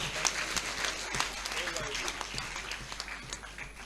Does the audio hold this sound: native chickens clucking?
no